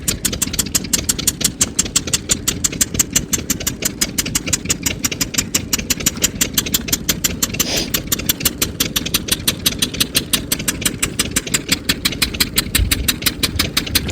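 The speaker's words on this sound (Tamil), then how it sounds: "நம்ம இன்ஜின் கொஞ்சம் வேகமாக ஓடுதே" A boat engine runs fast at Bhavanisagar dam, a loud, rapid, evenly pulsing chug that continues steadily throughout at close range, with no voices.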